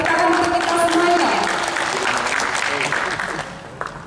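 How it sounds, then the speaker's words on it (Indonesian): Workshop participants on industry partnership applaud together, a dense, loud wash of clapping with voices and cheers mixed in that gradually thins toward the end. "Tepuk tangan untuk kita semuanya."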